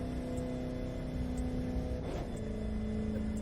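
Steady engine whir from a car cruising along a coastal road in The Crew 2, played on a Logitech G920 wheel on Xbox One, holding a constant drone with a brief swell midway and no talk.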